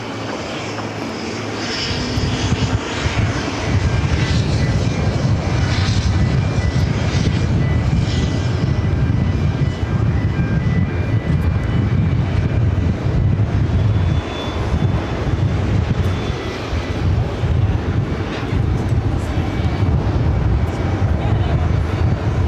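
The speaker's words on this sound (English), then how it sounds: "It's the Alice Air 777 freighter." Alice Air Boeing 777 freighter on the ground at JFK, its jet engines building into a loud, continuous roar that holds steady throughout, close by and drowning everything else.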